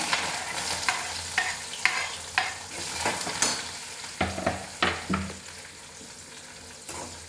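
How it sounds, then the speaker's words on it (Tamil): Onions and mustard seeds sizzle and crackle in hot oil with intermittent scraping and stirring clicks from a utensil against the pan, fairly quiet and close. "கடுகு வெடிச்சிருச்சு நம்ம இப்போ வெங்காயமும் இதுவும் போட்டுக்கலாம்"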